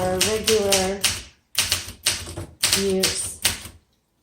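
Keys strike on a 1966 Olympia SM9 vintage manual typewriter in several dense clattering runs separated by brief pauses, close and loud, mixed with a person talking.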